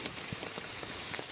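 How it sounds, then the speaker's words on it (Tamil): Heavy rain pouring steadily over an outdoor grazing area, a dense, constant hiss of drops hitting surfaces with scattered louder splats, close and enveloping with no voices. "மழை இருக்க ரொம்ப அதிகமாக பிடிச்சிக்கிச்சு."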